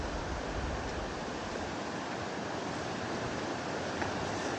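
Cirque de Gavarnie waterfall in the Pyrenees, a steady, dense roar of falling water heard from a distance, constant and unbroken with no voices.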